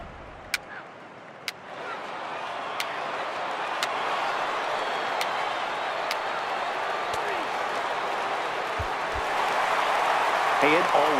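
Home crowd cheering in the MLB The Show 18 baseball video game swells into a broad, steady roar that grows louder toward the end, with a few sharp clicks early on and commentary over it.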